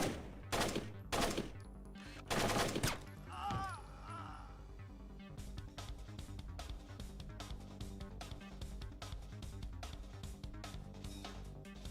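Bursts of gunfire in the stealth game Splinter Cell, several loud sharp volleys in the first few seconds followed by a long run of rapid, steady shots at a more distant, even level.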